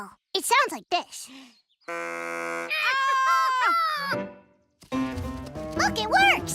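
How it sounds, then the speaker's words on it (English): A homemade deer call made at a camp is blown in an animated cartoon, producing a buzzy reed-like tone followed by warbling, bleating calls, with cartoon voices just before and after. "A deer call. It sounds like this."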